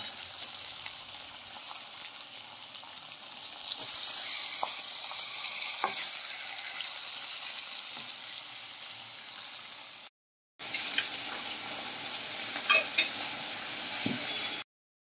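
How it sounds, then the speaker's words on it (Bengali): Fish pieces frying in hot oil in a pan make a steady close sizzle with occasional spatula clicks. A short silent gap breaks the sound before the frying resumes, and no one talks. "বাকি মাছের টুকরোগুলো ভেজে নিচ্ছি।"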